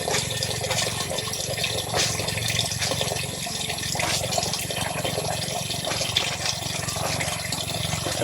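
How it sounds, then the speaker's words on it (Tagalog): Broadband, steady wash of sea water at the shore, continuous and fairly close with no clear individual waves, no talk over it. "Dagat na po ito."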